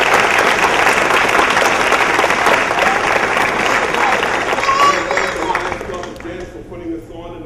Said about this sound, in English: a round of applause to the top 20 students